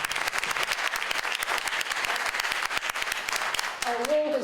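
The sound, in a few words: audience applause after a candidate's opening speech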